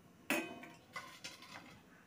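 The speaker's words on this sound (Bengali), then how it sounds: "লবণ দিয়ে একটু নেড়ে চেড়ে চলো ঢাকা দিয়ে দিচ্ছি" Pot lid clattering onto a cooking pot after tamarind pickle is stirred with salt, a sharp metallic clank followed by a few softer clinks, close and fairly quiet.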